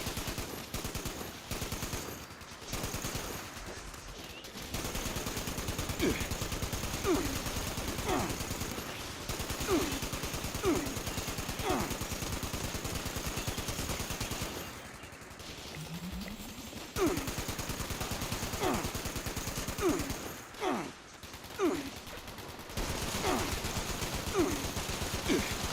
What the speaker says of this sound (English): they're shooting lasers down from the spaceship